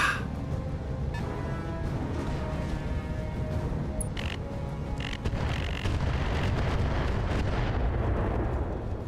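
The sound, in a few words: airstrike explosions in BattleTech video game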